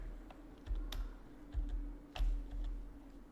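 Several sparse clicks of keys being pressed on a computer keyboard, as someone tests shortcut combinations while setting up a Windows code editor, close and moderately quiet over a steady low hum.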